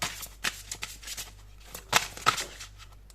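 Tarot cards shuffled and flicked by hand, a run of quick papery riffles and snaps at close range, loud bursts scattered over a quiet background, no voices.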